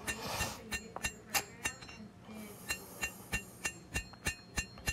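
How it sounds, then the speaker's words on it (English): A hammer strikes a small scrap Damascus blade on the anvil in a steady series of ringing, clinking blows, about a dozen in five seconds, close and distinct. "Back to the anvil to smooth everything back up."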